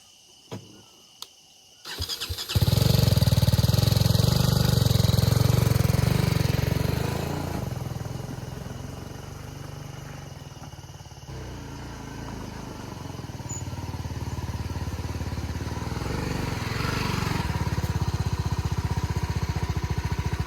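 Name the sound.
motorcycle engine while riding the bike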